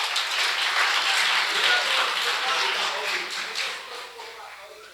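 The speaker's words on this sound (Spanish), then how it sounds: "Un aplauso para ellos." A church congregation claps during a Sunday morning service, a moderate wash of applause that swells early and then gradually fades out toward the end.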